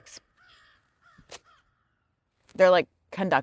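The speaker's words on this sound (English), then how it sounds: "Is that a crow?" A crow caws twice, loud and close, each call a harsh burst standing alone after a few faint scattered sounds.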